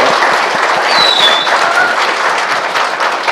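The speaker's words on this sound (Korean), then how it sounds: "여러분 큰 박수 부탁드리겠습니다" Sustained applause from an audience at a Korean political talk-show concert event, a dense, steady wash of clapping alone for the full few seconds with a faint whistle-like tone briefly above it.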